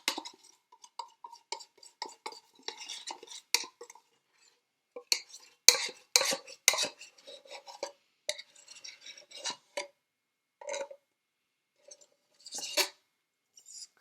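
Thick contents of an opened can scraped out into a bowl for flan, in scattered bursts of close metallic scraping and clinking with quiet pauses between them.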